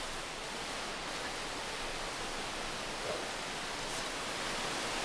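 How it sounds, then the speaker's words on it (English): Steady rushing of flowing water in Minecraft's RLCraft modpack (version 1.12), a continuous broadband hiss held at an even level throughout, with no speech. "Wow, the sound of that water."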